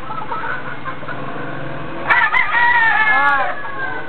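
A rooster crows once, loud and close, a drawn-out call rising over a low murmur of background noise.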